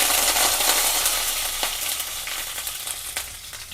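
Mustard seeds and curry leaves sizzling in hot oil for a Karnataka bende kayi huli, a loud close spitting hiss with a few sharp popping crackles that eases slightly toward the end.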